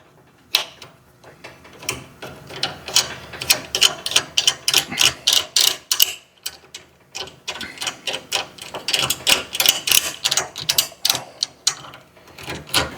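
A ratchet wrench loosens a nut on a Craftsman garage door opener during gear and sprocket replacement, giving repeated close clicking strokes in an uneven rhythm, alone without talk.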